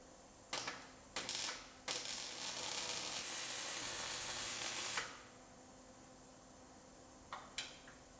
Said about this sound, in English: So we can go ahead and weld up our 4 holes.